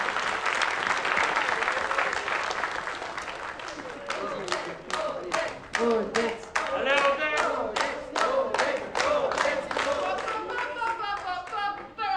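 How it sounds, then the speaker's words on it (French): An audience claps loudly for a group of young people, first a dense burst of applause that thins into a rhythmic, synchronized clapping near the end, with voices mixed underneath. "on peut les applaudir très fort"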